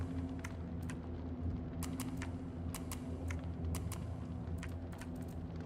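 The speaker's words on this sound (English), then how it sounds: "I'm using a keyboard and mouse" Quick, steady clicking of keys on a computer keyboard during a gaming session, close and fairly quiet, running irregularly over a low background hum.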